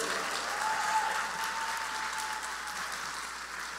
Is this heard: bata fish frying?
no